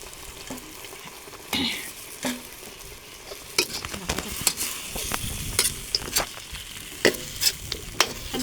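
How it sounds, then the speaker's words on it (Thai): Pork belly fries in a pan for a Thai pineapple curry while a spatula stirs it, giving soft sizzling broken by sharp scraping and clinking strokes that come more often toward the end. "เราก็จะใส่หมูสามชั้นลงไปนะคะ"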